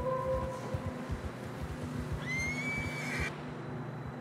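A horse in the open-world western video game Red Dead Redemption 2 gives a single clear whinny over a low, rumbling ambient backdrop with faint rhythmic hoof thuds, no talking.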